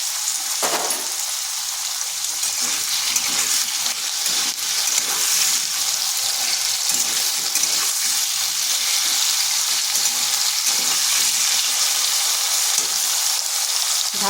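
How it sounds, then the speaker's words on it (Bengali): Cut potatoes sizzle in oil in a wok, a dense, constant frying crackle at close range with faint stirring noises and no voices. "প্রথমে আলুগুলোকে ভাজা ভাজা করে নেব।"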